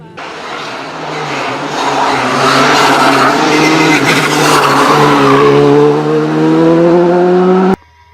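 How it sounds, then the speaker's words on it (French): A Skoda Fabia R5 rally car races along a special stage of a French rally, its engine loud and close, rising in pitch as it accelerates with tyre noise, then cutting off abruptly near the end. "quasiment 10 km permet à Étienne Bouot et Christopher Lemorion d'imposer avec leur Skoda Fabia R5 leur cadence aux autres concurrents."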